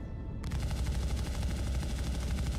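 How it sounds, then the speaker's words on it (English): Spaceship weapons fire in the video game Star Citizen: a steady rapid burst of repeated gunshots that starts abruptly and stays loud and even throughout. "Okay, I'm shooting. I'm shooting."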